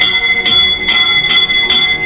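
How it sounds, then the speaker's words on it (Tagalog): Ship's bell sounding the fog signal of a vessel at anchor: rapid, loud, ringing strokes repeated steadily at about two per second, with bright sustained overtones. "let's hear the fog signal of vessel at anchor"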